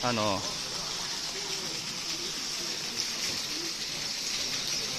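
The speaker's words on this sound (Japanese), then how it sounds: "これが音羽の滝ということで、水をね汲んでこうね" Water from the Otowa waterfall at Kiyomizu-dera temple in Kyoto falls and splashes in a steady, close, broadband rush, with a brief voice at the very start.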